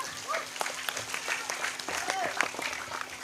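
A crowd claps steadily for a few seconds during a religious talk, dense clapping with a few voices and shouts mixed in, fairly close.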